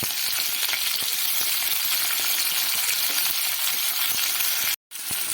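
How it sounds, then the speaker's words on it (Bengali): Chopped onions fry in hot white oil in a heated wok, giving a loud, continuous sizzle with faint clinks of stirring and a brief sudden cutoff near the end. "তেল গরম হয়ে গেলে আমি পেঁয়াজ কুচিগুলো ভালো করে"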